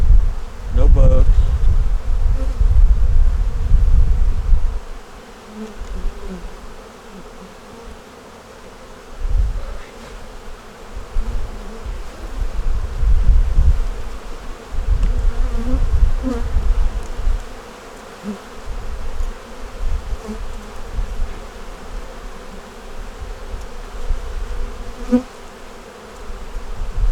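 Bees buzz around an open hive box during an inspection, a steady close hum with louder swells as they fly near.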